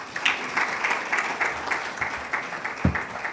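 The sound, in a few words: audience applause after a presentation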